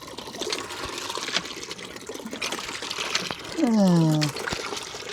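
Water runs steadily from a household faucet, a close, continuous rushing trickle with a short tonal whine partway through.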